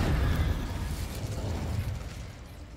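Incendio fire spell cast in Hogwarts Legacy, a loud whooshing burst of flame that roars steadily for a couple of seconds and then tapers off, with low rumbling underneath and no talk.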